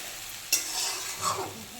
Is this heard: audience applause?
no